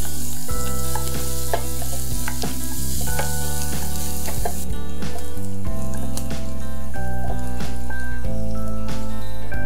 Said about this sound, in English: Next goes in the garlic.